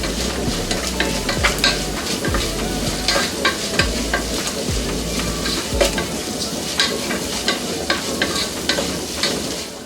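Onions fry in a pan until golden brown, sizzling steadily up close. Regular spatula strokes scrape and knock against the pan throughout, with no voice.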